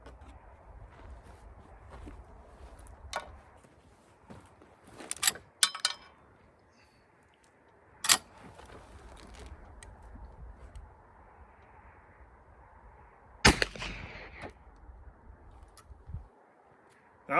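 Rifle shots ring out at an outdoor shooting range as a handful of sharp, separate reports spaced several seconds apart, some followed by a short trailing echo over quiet ambient noise.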